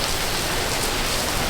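Heavy typhoon rain in Vietnam pours down in a dense, loud, unbroken hiss of drops hitting surfaces, close and constant with no voices.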